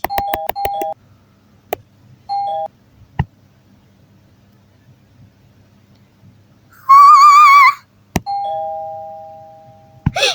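Electronic chime tones from the Toca Boca video game sound in short bursts, including a two-note doorbell ding, with a warbling jingle and a sustained beep in an otherwise quiet scene.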